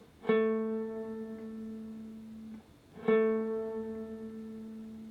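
Two sustained instrumental notes, each starting with a bright attack and holding steady, with a slight wavering vibrato in the held tone.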